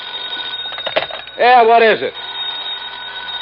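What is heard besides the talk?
telephone ringing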